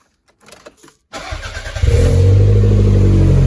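After a few soft clicks, a Toyota MR2's four-cylinder engine cranks and catches, settling into a loud, steady idle close by with a smooth rumble once running on all four cylinders after cleaned spark plugs.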